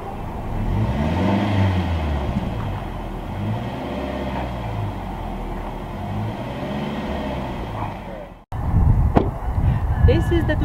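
Close-up exhaust of a 2013 Impreza rising and falling in repeated revs, a throaty note, followed by a sudden cut to brief noisy handling sounds.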